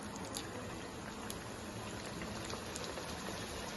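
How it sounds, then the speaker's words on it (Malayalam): French fries frying in hot oil, a dense, steady sizzle and crackle with fine popping bubbles, heard close and continuous without pause. "എണ്ണ നല്ലോണം ചൂടായി വന്നിട്ടുണ്ട്. അപ്പൊ ഇതിലേക്ക് നമ്മളിത് ഫ്രഞ്ച് ഫ്രൈസ് ഇട്ട് കൊടുക്കാം."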